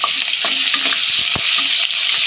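Carrot and beetroot hit hot oil with whole garam masala, giving a steady loud sizzle broken by scraping stirs and a few sharp spatula knocks, close by with no voices.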